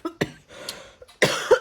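A few sharp coughs close to the microphone, a short burst at the start, then a louder, rougher pair of coughs near the end, with no talking, indoors at home.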